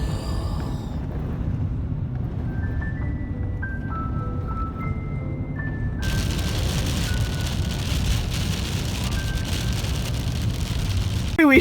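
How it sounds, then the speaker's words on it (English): Rain drums steadily on a moving vehicle during a drive through a cold Utah desert storm, a constant dense patter under road noise, with faint tonal chimes from inside the car and the rain growing more intense partway through. "We are going exactly where that rain is raining."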